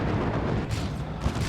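Baneblade's Demolisher Cannon firing in Dawn of War II: Retribution, a dense, loud low boom that fills the short moment with rumbling blast energy and no pause or voice.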